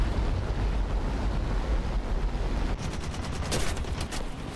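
Aircraft machine guns in War Thunder rattle in a fast burst over a steady roar of engine and wind, loud and continuous.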